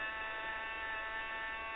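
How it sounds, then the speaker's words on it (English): Steady, faint electric buzz of a deburring tool working RV-14 aircraft parts, a continuous even hum with no pauses. "Here I am deburring."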